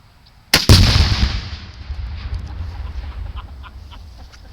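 A rifle shot detonating a Tannerite target outdoors: one sharp, very loud blast with a deep booming rumble that rolls on and slowly decays over several seconds, with faint bird clucking in the background.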